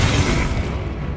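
A single loud, booming blast from the Confringo spell in Hogwarts Legacy bursts out at close range, then fades in a short rumbling decay.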